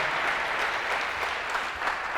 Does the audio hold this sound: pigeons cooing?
no